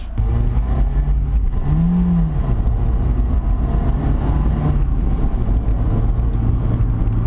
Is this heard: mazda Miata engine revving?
yes